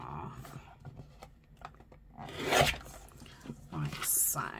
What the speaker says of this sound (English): I think what I'm gonna do is cut it in half